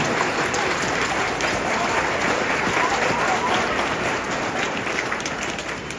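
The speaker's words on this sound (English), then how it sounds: "Could we start the evening with a huge round of applause for our amazing community?" Sustained audience applause fills a school winter band concert hall, dense and steady throughout, with a faint murmur of voices mixed into the clapping as it tapers slightly near the end.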